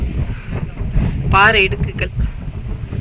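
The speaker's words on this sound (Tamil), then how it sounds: "பார்த்திங்கன்னா அவ்வளோ காற்று." Strong wind roars steadily across the rocky crevices of the Puligundu hills, a loud continuous rush buffeting the microphone while someone speaks over it.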